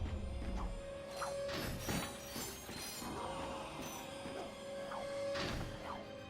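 Mechanical clunks and ratcheting clicks from a crank being turned in the Ratchet & Clank remake on Veldin, with a sustained tonal whine running beneath irregular metallic knocks and gear-like clatter, fairly quiet and without talk.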